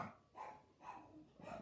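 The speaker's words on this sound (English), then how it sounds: "dogs." A dog named Barney gives three short barks spaced evenly apart, faint and somewhat distant, with no talking over them.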